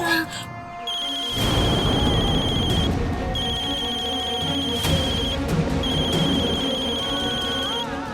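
A telephone rings with a repeated electronic ringtone, three long bursts spaced evenly, over a soft dramatic music bed.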